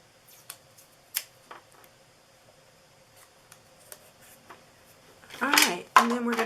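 Scissors snip out a paper piece for a Christmas treat holder, a few sparse faint clicks scattered through quiet before a person starts talking near the end.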